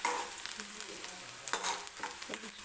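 Cauliflower and peas cooking in a pan for a Marathi-style bhaji, a close, steady sizzle and fry with scraping stirs and clicks of the utensil against the pan.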